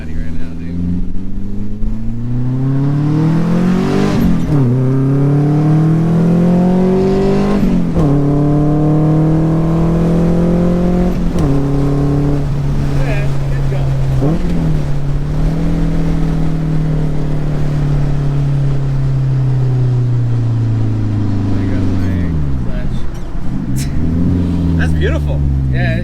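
A 1972 Datsun 510 with about 150 horsepower accelerates hard through several gears, engine pitch climbing then dropping at each shift, loud and close throughout, with voices talking over it.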